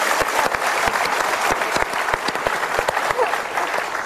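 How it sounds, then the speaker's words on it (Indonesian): Audience applause at a motivational talk show, a dense sustained wash of clapping with sharp individual claps standing out, steady and loud throughout with faint voices underneath. "Sekali lagi kita berikan tepuk tangan."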